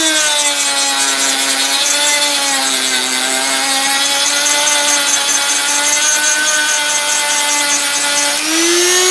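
A power tool, a jigsaw or Dremel, whines steadily while shaping the waist of a board-cut wooden slingshot, a loud close tonal buzz with a faint pitch wobble and a brief rise near the end.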